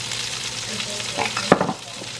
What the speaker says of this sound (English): Just gonna kind of stir it just a tad, just to kind of get some of that seasoning around in there.